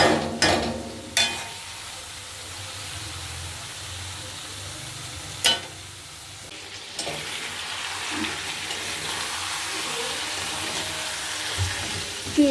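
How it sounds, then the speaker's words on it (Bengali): Chicken sizzles and is stirred with masala paste in a pan, giving a steady frying hiss. A few sharp clinks of a utensil against the pan stand out near the start and middle, with no talk. "চিকেনটা দেওয়ার পর আমি আবার ভালো করে মশলাটাকে আরও কষবো।"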